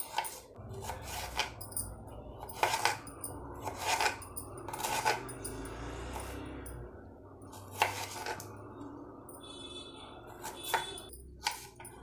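A knife repeatedly cuts prasadam ingredients into small pieces on a board, with irregular close taps and scraping strokes spread through a quiet kitchen.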